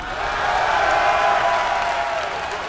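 Crowd at the MLG Columbus StarCraft II event cheering and applauding, a short sustained roar of many voices and clapping at a steady, fairly loud level.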